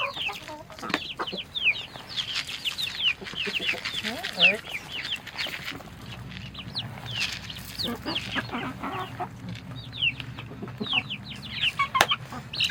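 Chickens on a homestead flock of about twenty birds cluck and chatter repeatedly, close by, with scattered sharp calls over a busy farmyard background and brief speech in between.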